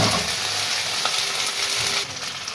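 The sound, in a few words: butter slices sizzling in a hot pan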